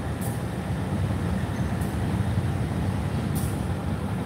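Train cars being hauled near a railway depot at Hua Lamphong, a steady low rumble of rolling wagons with brief hissing air-brake bursts at intervals, no talking.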